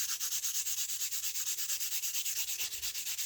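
Sandpaper rubs charcoal dust across drawing paper in quick, even back-and-forth strokes, a close, steady rasping scrape repeating about eight times per second with no talk.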